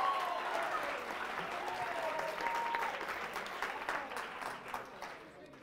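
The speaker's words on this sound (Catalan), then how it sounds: "Un aplaudiment, que són molts punts." A studio audience at a televised school quiz show gives dense, steady applause that fades slowly over several seconds.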